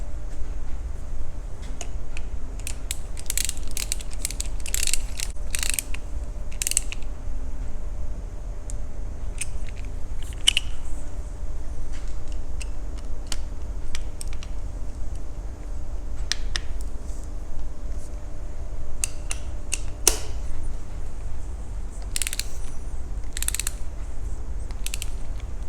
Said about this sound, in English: Next, we'll want to put in our bolts. And these will be torqued to 50 foot-pounds.